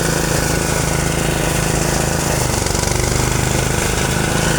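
A rice threshing machine runs loud and steady, its engine drone and rattling mechanism holding an even, continuous roar throughout with no pauses.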